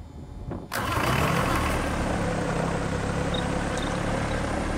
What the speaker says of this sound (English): So let's start up the left engine.